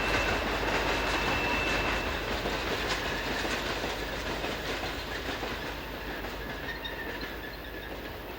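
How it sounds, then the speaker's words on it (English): A 1984-built ST44 diesel locomotive hauls an evening train westbound in Poland, its broadband rumble and steady rhythmic clickety-clack of wheels on rail continuous and fairly loud throughout, slowly easing as it passes. "Here, 1984 built ST44 number 1069 heads west with an evening train from Zamosc."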